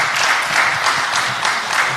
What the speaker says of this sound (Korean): 수고하셨다라고 하는 박수 한 번 더 보내주시면 감사하겠습니다